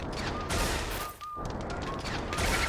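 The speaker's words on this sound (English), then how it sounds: "if you actually click it in, you actually shoot a fireball" A fireball is shot in the video game Luigi's Mansion, heard as dense, crackling burst effects that briefly dip near the middle and then resume at a steady level.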